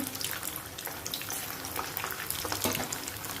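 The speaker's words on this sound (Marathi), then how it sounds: "अशा प्रकारे हे सर्व भाजून घ्यायचे" Millet-rice medu vadas fry in a pan, giving a steady, dense bubbling sizzle that stays fairly loud and even throughout.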